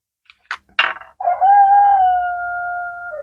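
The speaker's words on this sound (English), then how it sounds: "Oh, the rooster's back." A nearby rooster gives a few short clucks, then one loud drawn-out crow that holds steady before trailing off, heard alone in a quiet outdoor setting.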